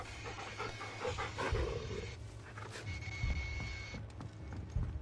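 Dogs in the Final Fantasy 16 video game pant heavily and steadily, with low growling rumbles underneath, close and fairly loud amid a game soundscape.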